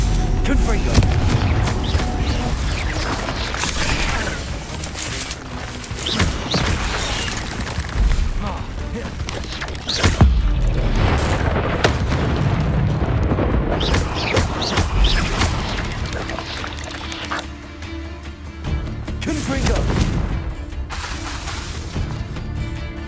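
Fiery Confringo spell blasts from the Hogwarts Legacy video game burst repeatedly over dense, busy combat audio, loud booming impacts and crackling bangs recurring every few seconds, with a voice talking at times.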